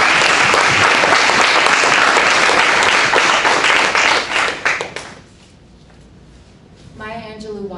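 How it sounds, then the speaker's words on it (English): A hall of fame awards audience gives a loud, dense round of applause for two honorees, sustained for about five seconds before fading out; a voice begins speaking near the end. "I'd like to get one more round of applause for JR and Jason."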